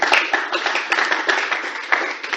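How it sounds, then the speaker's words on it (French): Conference audience at an international women's rights event applauding, a steady wash of many hands clapping at close range, sustained and fairly loud throughout with no talking over it. "On applaudit, s'il vous plaît."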